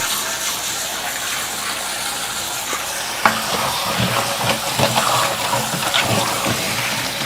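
Water is poured steadily while preparing celery and ginger for juicing, a continuous gushing splash that gets a little fuller and more bubbly partway through.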